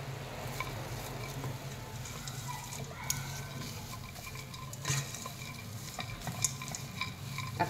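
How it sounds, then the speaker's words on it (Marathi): A dry mixture of dry fruits, rose petals and nutmeg powder is stirred in a kadhai, giving continuous close scraping with soft sizzling and occasional sharp taps of the spoon against the pan. "आता व्यवस्थित मिक्स करून घ्यायचं."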